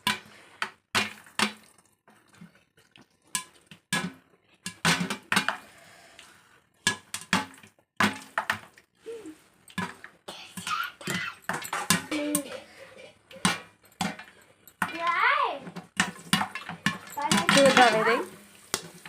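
Popcorn pops in a pot with many sharp, irregular pops and clatters against the metal, growing busier toward the end. A voice talks over it at times.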